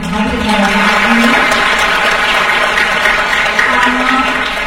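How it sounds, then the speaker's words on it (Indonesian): Students at a junior high school Qur'an and academic graduation ceremony in Tangerang applaud their teachers, a dense, steady roar of clapping from a large crowd that fills the hall without a break for nearly five seconds. "kita berikan tepuk tangan untuk semua para guru tenaga pendidik yang hadir pada saat ini"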